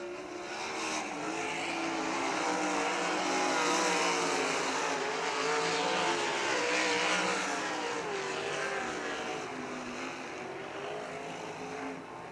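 Sprint race cars lap Millstream Speedway in Ohio, a dense engine roar that swells as the field passes and then fades slightly, with no voices over it.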